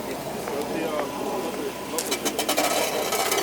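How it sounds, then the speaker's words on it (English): A Mercedes car engine with a loose exhaust and one side of its air ride low, running as a steady broadband rumble, with sharper scraping or rattling bursts in the last second and a half and people talking over it. "that exhaust is so loose."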